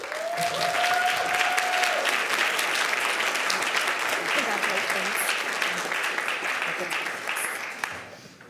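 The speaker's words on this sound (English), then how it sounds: "join me in giving her a big round of applause" A crowd at a Duncanville school board meeting gives a long round of applause, dense and sustained clapping filling the room before thinning out near the end.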